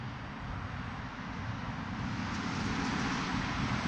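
A small RC Predator model airplane flies at wide-open full throttle, its engine giving a steady, continuous drone that holds level and grows slightly louder throughout, with some wind noise mixed in.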